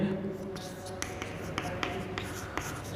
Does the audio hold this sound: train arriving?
no